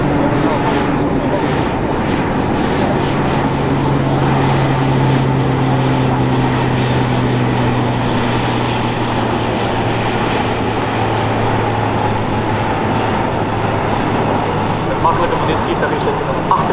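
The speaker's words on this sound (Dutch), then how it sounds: "Het volgende vliegtuig is de Poolse Casa." A Polish CASA C-295 propeller transport aircraft drones steadily overhead at an airshow mass drop, its engine tone slowly shifting in pitch as it passes at moderate distance.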